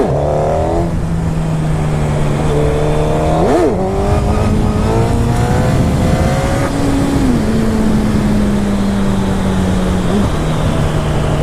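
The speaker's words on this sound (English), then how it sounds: "It's a very powerful bike, but you have to have the ability to harness it, to tame the beast." Powerful motorcycle engine revving hard and accelerating, loud and close, its pitch climbing, dropping and climbing again through gear changes over roughly eleven seconds of continuous roar.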